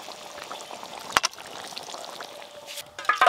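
Chana masala with paneer being poured from a pot, with a soft continuous liquid pour and a few sharp clinks and knocks near the middle and the end.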